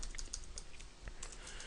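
Typing on a computer keyboard while entering a blog post, with quick, steady keystroke clicks close by at a quiet level and no voices.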